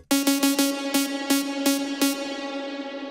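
Repeated plucked synth hits with a dense future-rave-style reverb, sidechained with a short release, that pumps between notes, sounding muddy, cloudy and smeared with artifacts as it rings out at the end.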